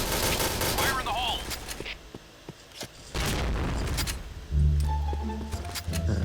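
A grenade blast and gunfire in a free-for-all shooter video game: scattered sharp shots and cracks, then a heavy booming explosion near the end, with a player talking over the action.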